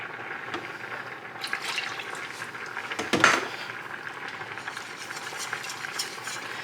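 A spoon works through homemade macaroni and cheese sauce in a pot as milk is added, giving a continuous soft scraping and sloshing with a brief louder clatter midway, close and steady.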